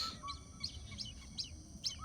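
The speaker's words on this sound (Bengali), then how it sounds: "ওই যে পুকুরের মধ্যে অনেক পাখি মাছ খাচ্ছে।" Birds at a group of ponds where they feed on fish, calling in short repeated chirps and cries at a moderate distance over a faint outdoor background, with no talk.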